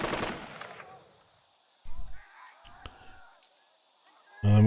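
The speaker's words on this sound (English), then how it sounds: "The machine gun is ready." A brief burst of machine gun fire in the WW2 strategy game Burden of Command rings out at the start and fades, followed by scattered softer battlefield thumps and a sharp noise at the end.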